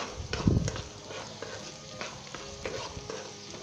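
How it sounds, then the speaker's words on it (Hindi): Spices get stirred into light golden-brown onions frying in a pan for Punjabi anda ghotala, soft sizzling with a utensil thump and scraping strokes at a fairly low level. "अब हम इसके अंदर सारे स्पाइस शामिल कर देंगे, मिक्स कर ले इसे।"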